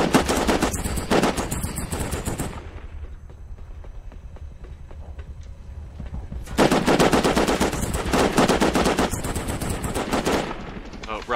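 Video game machine gun fire comes in two long, loud, rapid bursts separated by a quieter stretch of lighter shots and background noise, during a helicopter fight at a giant excavator.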